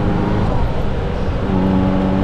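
Ferrari F40 on the move, a steady low engine drone with road and cabin rumble throughout, sounding close and fairly loud, with a faint whine rising toward the end.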